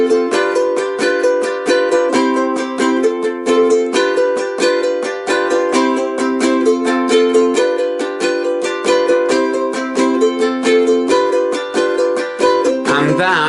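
Ukulele strumming a song's two-bar verse chord pattern, repeated four times, in a split-stroke style: rapid, even, bright strums, close and steady, no voice.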